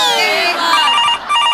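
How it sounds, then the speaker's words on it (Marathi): A telephone rings with a bright, repeating electronic trill, loud and close, sounding on its own without talk. "प्रसाद खांडेकरचा फोन आहे, समीर चौगलेचा नाहीये."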